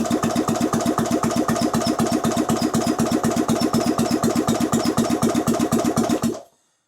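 A Steyr Puch engine, sitting unused for years and running off a low jump pack, cranks loudly and close in a steady, rapid rhythmic churn for about six seconds without catching, then stops abruptly.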